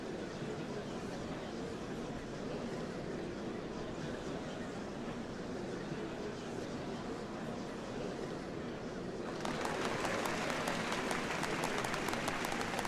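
Steady, dense applause from a large crowd in a Final Fantasy XIV Dawntrail cutscene, continuing throughout and swelling brighter and louder near the end, with no voices over it.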